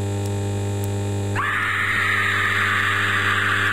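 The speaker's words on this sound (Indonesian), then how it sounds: "Kenapa ada suara yang menjerit-jerit coy?" Screaming in a Roblox horror game set on a night shift along Route 90, a loud sustained shriek that cuts in abruptly partway through and holds steady to the end over a low electrical hum, with no one talking.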